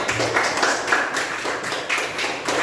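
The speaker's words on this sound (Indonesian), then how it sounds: "Beri tepuk tangan untuk kelompok 4." Group clapping for presenters at the end of a student presentation in an Islamic studies class, a steady dense patter of hands lasting a few seconds with no talk over it.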